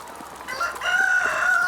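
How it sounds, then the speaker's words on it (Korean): Free-range laying hens on an egg farm in Gimje, South Korea cluck and call close by, with one rising high-pitched crow cutting through a steady farmyard murmur. "이곳에선 닭을 널찍한 공간에 풀어놓고 기른다."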